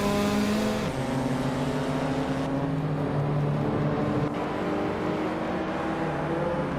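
Race cars engines drone and rev at Misano World Circuit, with a 1980 Volkswagen Golf GTI out in front, loud sustained engine tones shifting pitch as gears change, a continuous mechanical roar with no voices.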